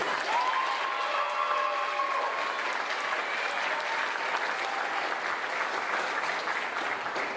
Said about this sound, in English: Now let's clap for you.